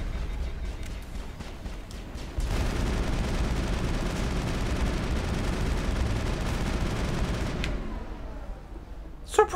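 Gunfire in the video game Mass Effect: a sustained burst of rapid, dense weapon fire starts abruptly and rattles on for several seconds at moderate level, then cuts off, followed by a couple of sharp clicks.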